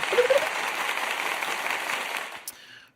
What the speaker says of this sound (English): I was being support, and I hit the applause button. I'll hit it again for you.